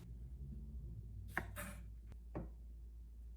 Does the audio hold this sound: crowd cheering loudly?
no